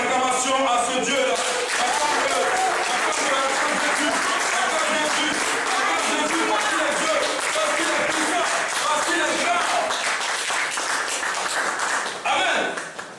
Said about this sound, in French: Je veux que nous donnions une offrande d'acclamation à ce Dieu-là.